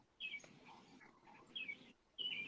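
Birds chirp and sing outdoors near a beehive after a swarm capture, several short bright calls arriving in bursts over soft background noise, fairly faint and with no talking.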